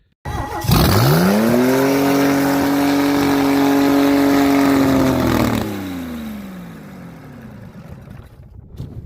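An inline-six Chevy engine fitted with nitrous, running rough after a failure, revs up hard and holds a loud, steady high-rpm roar for about five seconds, then drops back to a ragged idle.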